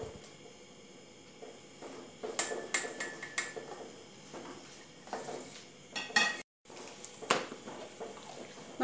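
A spoon stirs semiya payasam, a sweet vermicelli pudding, in a pot, giving scattered light taps and scrapes against the metal, close and fairly quiet with irregular gaps.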